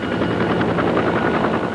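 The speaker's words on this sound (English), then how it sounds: "More attack helicopters, the Cobra, to stop Iraqi tanks" Cobra attack helicopters arriving in the desert with Marines, a continuous rapid rotor chop with broadband engine roar, steady and moderately loud throughout, without voices.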